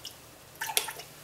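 A small splash of vanilla is poured into oat milk in a blender jar, giving a brief, soft liquid patter and drip lasting well under a second in an otherwise quiet room.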